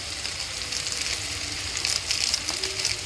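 Tomatoes fry in a pan while Maggi noodles are being made, giving a steady, even sizzle and crackle with no break, close and moderately loud.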